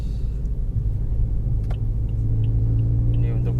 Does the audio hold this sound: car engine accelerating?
yes